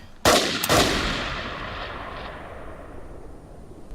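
Gunshots in a Swiss film scene about a stray bullet during military service training: two loud sharp reports in quick succession, followed by a long echoing rumble that slowly fades away, with no voices.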